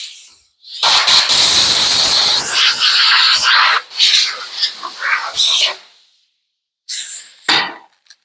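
Compressed air blasts off a SmittyBilt Scout overland trailer surface during paint prep, a loud broadband hiss running about three seconds, then shorter bursts and a final brief blast after a pause.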